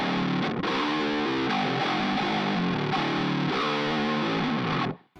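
Pitch-shifted electric guitar tone built in a plugin, a dense, heavily distorted riff with chorused, shifted layers, loud and continuous for about five seconds before cutting off abruptly, no talking.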